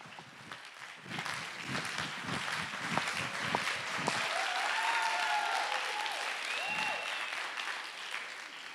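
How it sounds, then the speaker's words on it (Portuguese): Audience at a hypnosis show breaks into sustained applause, a dense, loud clapping that swells and continues throughout, with faint cheers rising over it. "Uma salva de palmas dos nossos astros."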